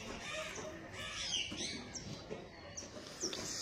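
Pigeons kept for sale fill the air with a busy chorus of soft chirps and calls, steady and fairly close, with no talking.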